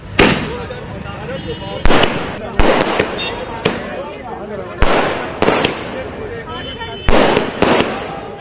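Firecrackers burst in celebration after an election victory in Ranchi, a run of sharp, loud cracks and pops in irregular clusters, with crowd noise and voices underneath.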